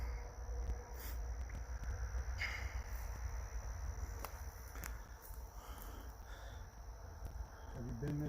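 Crickets and other insects chirp in a steady, faint night-time chorus outdoors at a historic house, with occasional soft movement and distant voices mixed in.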